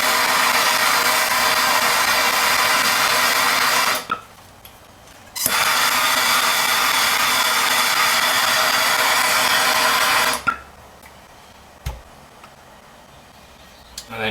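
A heat tool warms the head during a KS installation, running as a loud, steady blowing roar that cuts off twice for a few seconds and then starts again.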